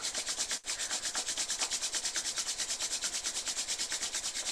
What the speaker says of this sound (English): rub the palms against each other